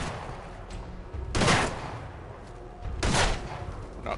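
Gunfire crackles during a firefight in the video game Fallout 4, with two loud bursts of shots about a second and a half apart standing out over a steady background of combat noise.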